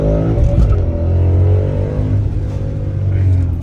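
An old Ford Mustang drives by, its engine rumbling low and steady with a brief surge of revving, heard close with a faint voice partly over it.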